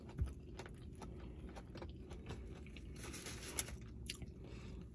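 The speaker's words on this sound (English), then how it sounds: "I'm chewing on the front of my teeth for real" Soggy Taco Bell food is chewed close to the mouth, soft quiet mastication with occasional faint crunchy bites, steady and intimate with no talking.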